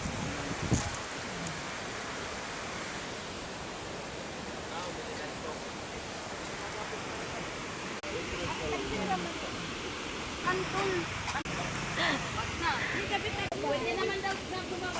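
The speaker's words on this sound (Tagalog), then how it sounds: "so nandito po kami sa Lulugayan Falls" Lulugayan Falls in Calbiga, Samar, a waterfall giving a steady, broad rush of falling water that stays loud and even throughout, with voices chatting faintly over it.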